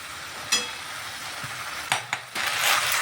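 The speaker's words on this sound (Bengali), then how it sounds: "একটু উল্টে পাল্টে ভেজে নিচ্ছি" Long beans and other vegetables are stir-fried in a pan, a steady soft sizzle broken by a few sharp scrapes and clatters of the spatula turning them, close up with no talk.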